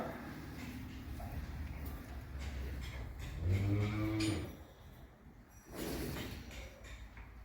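A Murrah buffalo on a farm lets out one deep, drawn-out moo midway, loud and fairly close, with faint farmyard shuffling and rustling before and after.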